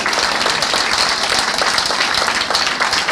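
A church congregation applauds and cheers in acclaim of God, steady dense clapping from a large crowd filling the room without pause.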